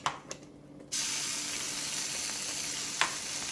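Meatballs drop into a hot pan for spaghetti sauce, bringing a sudden loud sizzle that holds steady and close, with a couple of light clinks before and during.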